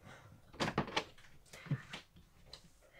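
An RV bedroom door in a Grand Design Momentum 328M fifth-wheel opens with a cluster of close knocks and clatters, then a softer thud and a few faint rattles, with no talking.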